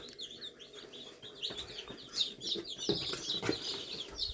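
Crested chicks chirp in a busy, overlapping chorus of high peeps and tweets, with a few soft clucks mixed in, close by and fairly steady throughout.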